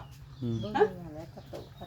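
Farmyard chickens cluck close by in a short burst, with a hen's rising call, while people talk softly nearby.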